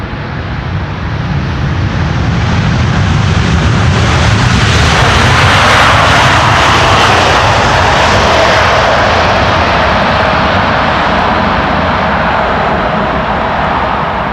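A KLM airliner roars in to land on Schiphol's Polderbaan runway, a loud continuous jet-engine rumble and whine that swells toward the middle and stays strong throughout.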